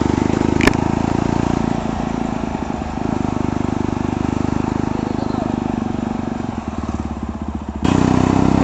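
A GT 650 or Jawa Bobber motorcycle drones loudly and steadily while being ridden, its engine close with wind rushing over it and a slight shift in tone near the end.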